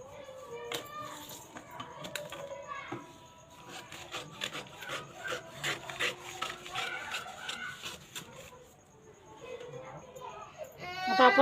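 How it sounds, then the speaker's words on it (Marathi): Scissors cut a paper pattern for a size 38 blouse, giving a run of close, dry rasping snips and rustles that are steady through the middle and fall away before a louder crinkle of paper at the end. "आपला उरलेला एक्स्ट्रा पेपर कट केलेला आहे"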